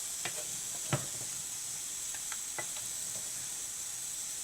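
Homemade paneer and onions with spices are stirred in a pan over a low flame, giving a faint, even sizzling hiss with a few light scrapes and taps and no talking.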